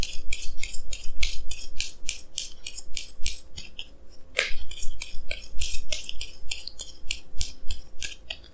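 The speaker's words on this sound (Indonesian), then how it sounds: "Jadi sini saya akan tarik lagi dua kartu tambahan." Tarot cards are drawn and handled close up, giving a quick series of crisp, papery swishes and slides in a steady rhythm. There is a brief louder snap midway, and no one speaks.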